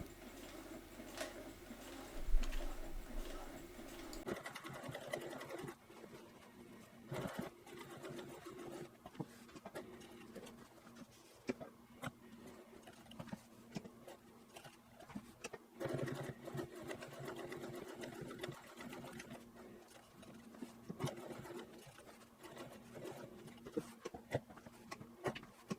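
Sewing machine stitching a seam through a leather yoga mat, running in a steady rapid mechanical rattle for a long stretch with small pauses and shifts in pace, moderately close.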